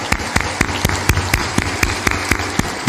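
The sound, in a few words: audience clapping in welcome of guests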